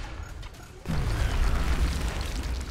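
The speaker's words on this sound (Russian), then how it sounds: "Забегаю сюда, кидаю гранату." A sudden loud grenade explosion in XCOM: Enemy Within bursts in, followed by a sustained rumbling boom that lingers for a couple of seconds.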